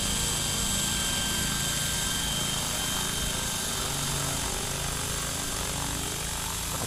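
An RC scale helicopter flown with a DJI Wookong-S flight controller holds a steady, loud rotor and motor whine throughout, a continuous broadband drone outdoors with no talking.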